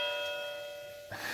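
A plug-in Z-Wave doorbell chime sounds indoors, a clear sustained electronic ding with ringing tones that fade, then a brief louder burst at the end.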